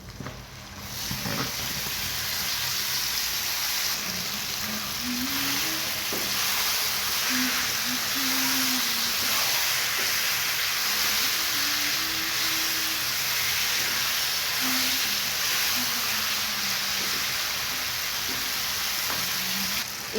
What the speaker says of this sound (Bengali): রসুনগুলোকে বেশ অনেকটা সময় তেলের সাথে ভেজে এবারে আমি থেতো করা চালতাটাকে দিয়ে